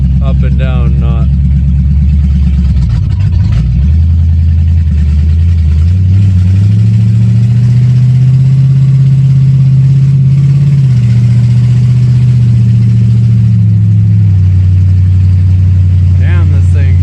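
An old Lincoln car's engine running while driving, a loud steady drone that rises and falls slightly with speed, with a person talking over it.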